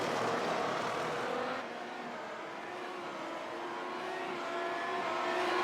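A race car engine in the iRacing Grand Prix Series at Watkins Glen drones loudly and continuously, its pitch sliding and shifting through gears with a brief dip partway through, no talk over it.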